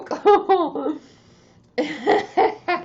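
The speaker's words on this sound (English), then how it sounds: "It made me laugh so hard it made me cough." A woman laughing breaks into a few short coughs, close and loud; bursts of laughter come first, then after a quiet pause a rapid run of coughs and laughs.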